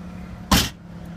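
One quick, solid thump as a rear seat in a 2012 Nissan Rogue folds down flat, a brief muffled clunk standing alone against a quiet cabin.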